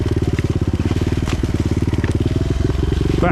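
A Suzuki DR 200 motorcycle with a new carburetor sputters while running lean, its single-cylinder engine pulsing in a loud, close, rapid and slightly uneven rhythm throughout, without letting up.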